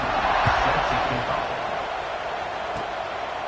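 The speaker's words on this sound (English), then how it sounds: "this crowd is buzzing after that last score" A football stadium crowd buzzes after a score, a dense, steady roar of many voices that stays loud and constant throughout, with faint shouts rising out of the wash.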